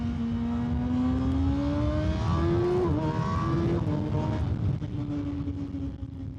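A motorcycle engine hums steadily while riding, its whining tone climbing and dipping through gear changes over a constant wash of wind and road noise.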